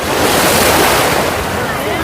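Ocean surf rolls onto a beach in Pattaya on Koh Lan island, a loud continuous wash of breaking waves with wind buffeting the microphone throughout.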